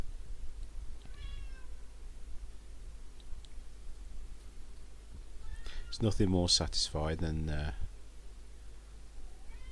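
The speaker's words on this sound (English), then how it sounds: "that's my cat down there that you can hear" A cat meows faintly in the distance in a woodturning workshop, a few soft thin cries early on, then someone speaks over a steady background hum.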